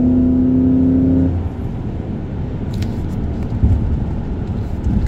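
A supercharged Chevrolet Suburban pulls away hard, its engine note steady and loud before easing into a rough, continuous road roar, with a brief clunk partway through and no talking.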